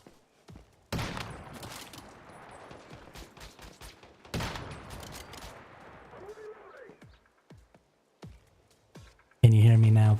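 Bursts of gunfire in the video game Once Human, two heavy volleys followed by scattered single shots and rapid cracks, with a loud blaring burst at the end and a voice speaking over the shooting.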